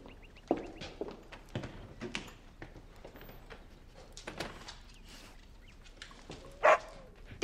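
A dog barks and yips in short irregular bursts in a period drawing room, with several sharp louder barks near the end, mixed with footsteps and rustling movement.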